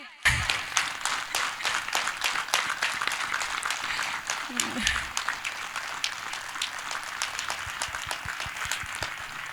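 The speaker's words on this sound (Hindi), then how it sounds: "तालियों की गड़गड़ाहट इतनी तेज होनी चाहिए कि आज सीआरपीएफ बेस कैंप से बाहर जाए।" Loud, sustained applause from a crowd of CRPF soldiers at a Holi 2021 gathering at their base camp with cricketer Suresh Raina, dense clapping rising sharply and continuing throughout.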